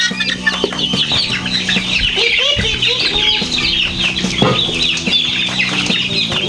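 Farm chickens, with turkeys also kept on the farm, cluck and chatter continuously and loudly near the microphone, with other bird calls layered throughout.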